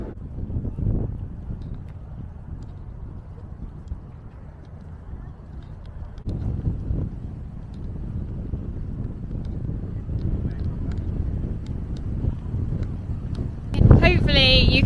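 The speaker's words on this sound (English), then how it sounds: "it is very, very windy down here" Strong wind buffets the microphone outdoors near the Thomas Jefferson Memorial in Washington, DC, in a constant low roar that swells and eases, with a louder gust near the end.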